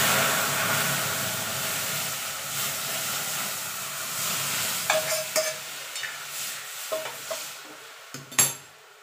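Tangy raw mango dal poured into a hot black mustard seed tempering, setting off a loud hissing sizzle that slowly settles, followed by a few clinks and scrapes of a utensil against the pot.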